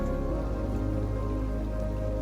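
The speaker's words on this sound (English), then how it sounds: "Rain's picking up on the water." Rain falls on open water nearby, a steady dense patter of drops hitting the surface, moderately loud and continuous with no speech.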